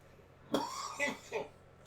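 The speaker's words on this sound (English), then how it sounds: "Just get the cough out of you before you" A person coughs close by, two or three rough, throaty bursts in quick succession.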